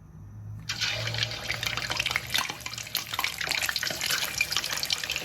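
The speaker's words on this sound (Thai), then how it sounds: "ก็จะเห็น ว่ามันจะมี ความเดือดของน้ำมันนะคะ ก็จะมีฟองแบบลอยๆขึ้นมาลักษณะนี้ค่ะ ก็ใส่ปลาลงไปได้เลย" Catfish pieces dropped into hot oil in a wok, the oil bubbling and hissing in a steady broadband wash that starts abruptly and carries on loud and close, with a low hum underneath.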